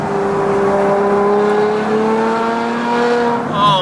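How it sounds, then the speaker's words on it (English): Loud, close engine and exhaust note of a Ferrari F12 Berlinetta, a sustained V12 drone that climbs and falls with throttle, ending in a sharper rev, with a voice briefly audible beneath it. "Oh my God, I cannot believe that I have a car that sounds like this."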